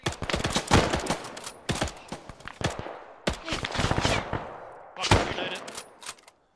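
Video game gunfire in a squad battle: bursts of loud, close automatic shots come in several clusters with short gaps between them, each volley cracking sharply and trailing off before the next.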